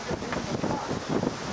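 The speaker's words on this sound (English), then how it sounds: "It's getting nice and windy out here now." Gusty wind blows steadily outdoors during a thunderstorm with hail, a continuous broadband rush with buffeting surges against the microphone.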